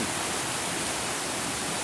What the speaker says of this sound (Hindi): जो निरंतर यहाँ पे झरना गिरता रहता है।